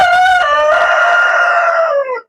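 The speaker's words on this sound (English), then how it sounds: "Yeah, the chickens are cozy." A loud rooster crows once, a long strained call held for about two seconds, close and alone.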